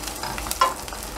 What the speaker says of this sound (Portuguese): maritar aqui um pouco o alho, para ir dando um aromazinho aqui no azeite